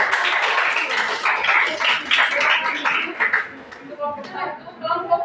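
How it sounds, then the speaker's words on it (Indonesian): A classroom of students applauds a group presentation, a dense scattered clapping filling the first few seconds, then thinning into a few tapering claps with voices murmuring underneath. "kita tepuk tangan untuk"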